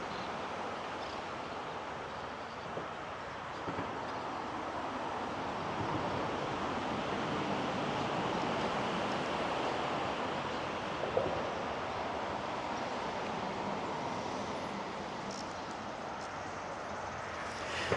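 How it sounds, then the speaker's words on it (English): A steady broadband roar of traffic passing over a highway bridge, continuous and moderately distant, with no clear pauses between vehicles. "Sorry about the noise. There's lots of vehicles passing over this bridge here."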